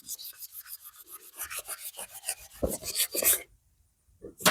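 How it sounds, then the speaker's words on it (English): Hand polishing of metal fins after an epoxy repair, a steady rhythm of close rasping strokes that speed up, then a brief pause and a final stroke. "I'm going to go ahead and finish polishing the fins out today"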